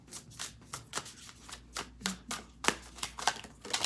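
Tarot cards are shuffled by hand, a close series of soft riffling flicks and slaps in a steady, uneven rhythm.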